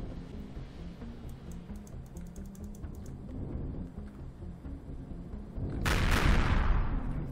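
Missiles launching at an overseer ship in the Empyrion space game: a rapid stream of clicky firing bursts over a dense rumbling battle bed, swelling into a loud roaring blast near the end.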